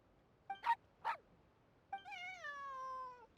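Cat meows in Genshin Impact: two short meows, then after a pause a long drawn-out meow with a rising then falling tone, close and clear with no talk.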